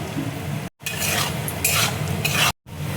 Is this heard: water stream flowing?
no